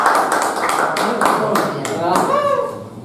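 Applause from a small group in a classroom or training session, a steady patter of claps with voices over it that fade out near the end.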